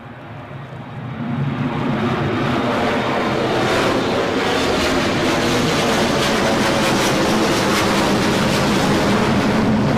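An Embraer 170 jet departs Newcastle International Airport, its broadband roar swelling over the first second and then holding loud and steady to the end, with no talk.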